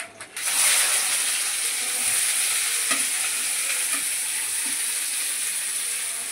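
Cumin seeds sizzle in hot oil in a home kitchen, a loud, steady crackling hiss that starts abruptly and runs on evenly, with faint stirring clicks and no talking.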